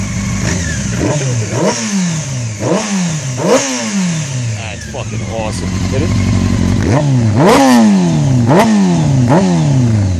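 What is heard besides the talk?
Honda CBR 600 F4i stunt motorcycle engine revving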